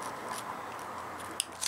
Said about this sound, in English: Get up into that corner with the scissors again.